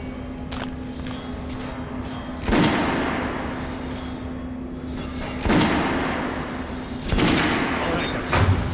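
Gunfire on a shooting range in the video game Metro: Last Light: three loud, separate shot bursts with ringing tails, spaced a few seconds apart over a steady hum and low ambient rumble.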